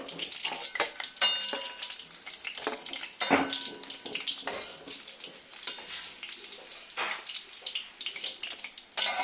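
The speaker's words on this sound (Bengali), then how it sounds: "বড়াগুলো আমার সুন্দর ভাজা হয়ে গেছে" Cabbage fritters (bora) fry in hot oil, giving a steady crackling sizzle with sharp pops and occasional stirring scrapes, close and fairly quiet, with no talk.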